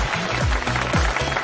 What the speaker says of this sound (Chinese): 来，让我们先掌声有请求职者。